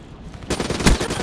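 A single loud gunshot burst in the Black Ops 3 video game, close and abrupt after a moment of quieter background noise.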